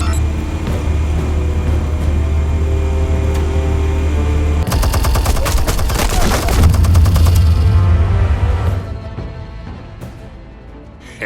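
Rapid automatic gunfire from a Batman video game, loud and sustained bursts over a steady low rumble, with a denser fusillade midway before fading out near the end.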